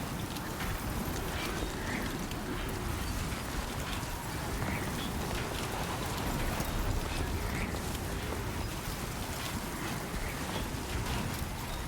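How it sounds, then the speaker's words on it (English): Heavy rain storm in Death Stranding 2, a dense constant hiss of pouring rain filling the scene, with faint irregular footstep-like thuds beneath the downpour. "the rain ain't really letting up right now, so the storm ain't letting up"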